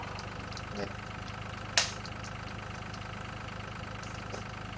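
A combine harvester engine idles in the Farming Simulator 2013 game, a quiet, steady, low mechanical hum with a faint rhythmic pulse and a brief click partway through.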